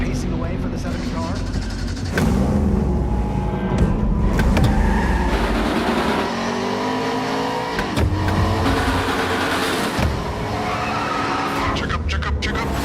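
A NASCAR race car engine in iRacing at Bristol Motor Speedway drones loudly, its pitch climbing and dropping through the laps with a tire skid, under continuous commentary.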